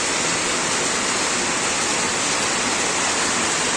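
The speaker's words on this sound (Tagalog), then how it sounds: "ang lakas naman ng ulan" Heavy rain pours down in a dense, steady hiss, loud and unbroken with no other sounds rising above it.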